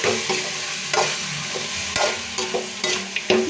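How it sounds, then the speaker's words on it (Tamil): Chicken being sautéed with spice paste for pepper chicken varuval, a steady sizzle broken by repeated sharp scrapes and taps of a spatula, roughly one every half second, loud and close with no talk. "நம்ம வதக்கின பேஸ்ட்டோடு சேர்த்து சிக்கனையும் சேர்த்து நல்லா வதக்கிக்கிடலாம்"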